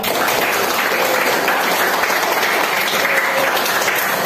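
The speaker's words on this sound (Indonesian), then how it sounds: "Tepuk tangan untuk trio" A classroom of students claps loudly for a student trio during a short-story writing lesson, a dense, continuous burst of applause close by.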